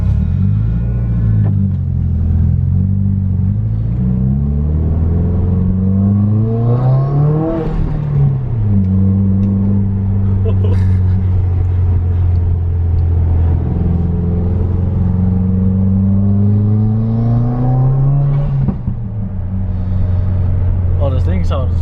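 Subaru WRX with a Perrin intake driving and revving, engine rumble rising and falling through gear changes, heard from inside the car with people talking over it.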